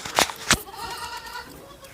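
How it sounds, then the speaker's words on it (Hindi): A Gujari goat on a farm gives two short close bleats near the start, followed by quieter background sound with low talk. "मेन बकरी यही है। अच्छा, सबसे अच्छी बकरी है।"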